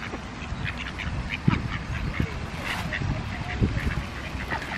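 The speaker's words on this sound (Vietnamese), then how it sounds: "Mấy con vịt này dành ăn của ta." Ducks being fed bread quack repeatedly while jostling for the food, a lively mix of close, irregular quacks and honks over a low background of voices.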